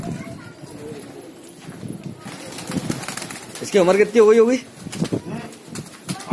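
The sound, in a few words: pigeons cooing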